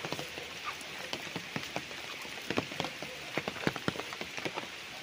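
Rain patters steadily on a farm lot in Lumban, Laguna, with irregular heavier drips and taps standing out over a soft, constant shower hiss.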